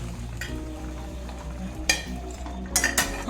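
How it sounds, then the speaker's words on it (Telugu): Cooked tomato and tamarind being stirred together for a coriander-tomato chutney, a low steady scraping under faint kitchen hum, with a few sharp clinks of a spoon against the vessel near the end. "ఇప్పుడు ఈ 2 కలిపేసుకొని చల్లారి పెట్టాలి"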